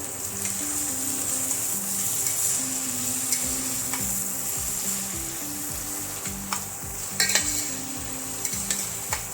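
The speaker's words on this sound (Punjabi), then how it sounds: "ਅੱਧਾ ਚਮਚ ਦੇਗੀ ਮਿਰਚ ਮਸਾਲੇ ਨੂੰ ਮਿਕਸ ਕਰ ਦਵਾਂ ਪਾ ਕੇ" A mixed vegetable rice pulao sizzles in a pan while salt, red chilli and degi mirch are stirred in, giving a steady close frying hiss broken by repeated scraping strokes of the spoon, with no talking.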